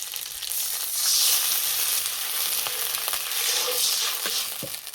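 Water hitting hot white oil with fried curry leaves, mustard seeds and green chillies in a kadai, producing a loud, even hissing sizzle that swells and holds for several seconds, no talk.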